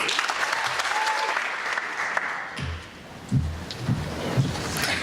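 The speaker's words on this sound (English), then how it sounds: "So give them a round of applause" A room full of people at a reception applauds for a group of MCs, in a dense, steady clatter that fades slightly midway before a few louder claps and a voice come through near the end.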